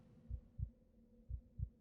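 Two pairs of soft, deep heartbeat thumps pulse at a steady lub-dub rhythm in the horror game SCP 087, close and muffled over a quiet low hum.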